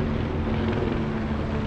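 A steady low mechanical drone of a helicopter overhead on Hollywood Boulevard, holding constant throughout the short stretch.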